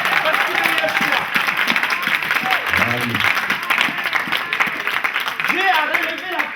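Church congregation applauding and cheering during a worship service, dense continuous clapping filling the room with crowd voices throughout.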